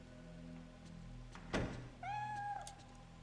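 Cat in the Project Zero 3 video game, a single clear meow rising and falling after a sharp thunk, set over a quiet low hum.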